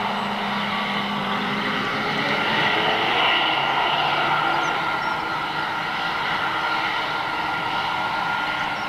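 An airliner takes off at Manchester airport with a continuous, even jet roar that holds at a steady level throughout, with no voices over it.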